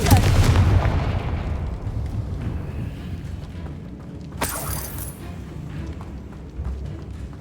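A Confringo blasting spell goes off in the video game Hogwarts Legacy, a loud booming burst over dense rumbling battle noise, followed by a sharp crackling blast midway through.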